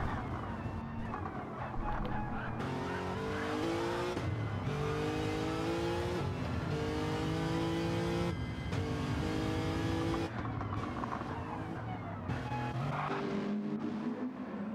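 GTO race car engine heard from the in-car camera in a sim racing video game, a loud continuous roar rising and falling through gear changes and throttle lifts, with steady revving throughout.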